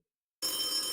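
An electronic telephone ring starts abruptly after a short silence for an incoming call, a bright continuous trilling tone heard alone.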